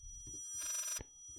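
A telephone rings inside the horror game Layers of Fear, one short electronic bell burst of under half a second, close and clear, standing alone after a bit of low background rumble.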